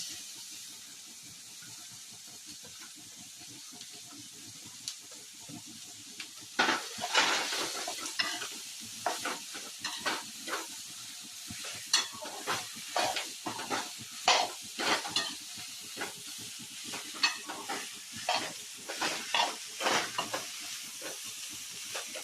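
Onions and grated ginger fry in a pan under a soft, steady sizzle, with repeated scraping and clinking strokes as a spoon stirs them through most of the stretch.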